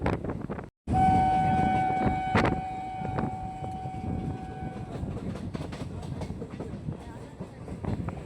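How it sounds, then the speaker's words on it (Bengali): A local passenger train on the Howrah to Tarakeswar line rumbles along as it pulls into Loknath station, with steady wheel clatter, a sustained horn-like tone early on, and a brief dropout near the start. "আমাদের ট্রেন এসে পৌঁছালো লোকনাথ।"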